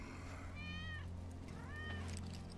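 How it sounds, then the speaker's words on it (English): Wedge's cat meowing in a video game, two drawn-out, rising-and-falling meows a second apart over a low steady hum, moderately close. "That's Wedge's cat."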